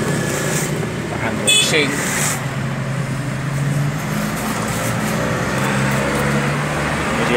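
A Matsumoto MGP-40B portable water pump with a 3.5 hp four-stroke engine and 1.5-inch outlet runs at a steady, loud drone, while a person talks over it.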